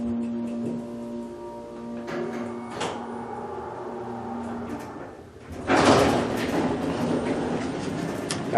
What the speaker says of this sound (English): Interesting how it has a single slide door.